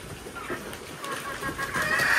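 A hen clucks in a backyard flock of chickens and roosters, short repeated calls sitting just above a busy, hissy outdoor background.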